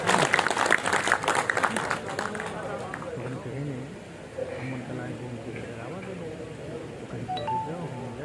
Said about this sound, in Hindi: तालियां जोर से बजा दीजिए।